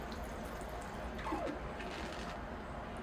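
Water poured onto bonsai soil for an initial soaking, a steady, fairly faint trickling and splashing wash that continues evenly throughout without talk.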